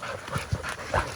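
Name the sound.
hunting dogs panting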